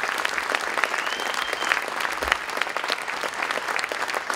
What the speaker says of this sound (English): Give a round of applause for our freshmen through juniors receiving their first year letter